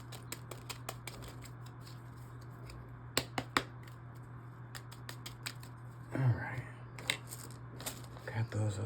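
Runes being shuffled by hand, a run of small clicks and rattles of the pieces knocking together, with a few sharper clacks and a brief spoken word near the end.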